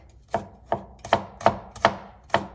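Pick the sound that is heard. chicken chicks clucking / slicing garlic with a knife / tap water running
slicing garlic with a knife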